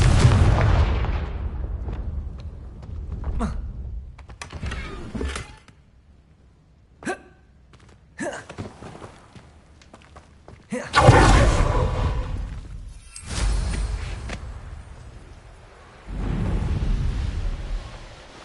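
A Confringo blasting spell from a wizard video game fires as several loud, booming explosions, heavy bursts separated by quieter gaps across the scene, with no talking.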